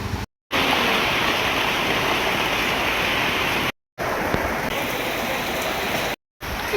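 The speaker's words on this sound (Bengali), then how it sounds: "এক্ষুনি বৃষ্টি নামবে যেটা ভয় পাচ্ছিলাম সেটাই হলো" Heavy rain pours outdoors in a dense, loud, unbroken hiss, cut off by three brief silent gaps.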